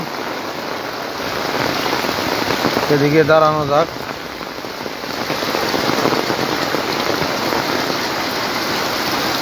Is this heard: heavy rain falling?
yes